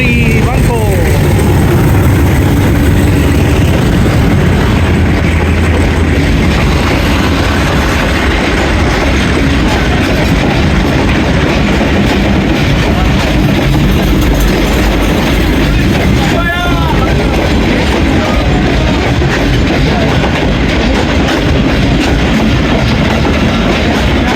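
Hazara Express locomotive 8314 notches up and the train rolls on with a loud, continuous rumble and rhythmic clatter of wheels on rail, heard close and steady throughout, with a voice speaking over it.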